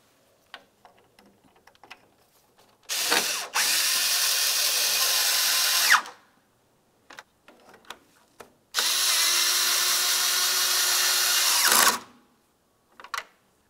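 A power tool drives the 10mm bolts that hold the grill assembly to the body of a Ford Flex, in two loud, sustained whirring runs of about three seconds each, separated by scattered clicks and tool handling.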